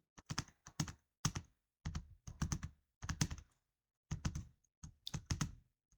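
Formula keyed into an Excel spreadsheet on a computer keyboard: quick clusters of crisp, close key taps separated by short pauses, moderately quiet, with no one speaking.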